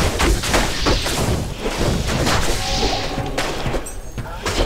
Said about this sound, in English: We just keep shattering everything.